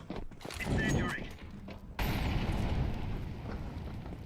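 An incendiary grenade bursts in a first-person shooter game: a sudden loud, broadband whoosh-boom that sustains as a roaring fiery rumble, following a stretch of gunfire and game noise, with players talking.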